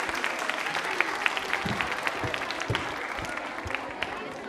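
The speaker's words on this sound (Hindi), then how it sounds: "जोरदार तालियां बजाइए, जोरदार।" Audience applause for Dr. Renu Arora at a women's club New Year quiz show event, steady clapping throughout with a few louder claps and some voices mixed in.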